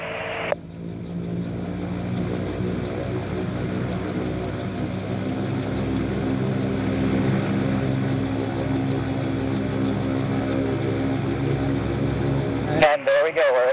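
An MTO Sport autogyro's engine drones loud and steady as its rotor spins up toward takeoff, with a continuous propeller hum and rotor throb filling the whole stretch before a brief abrupt change near the end.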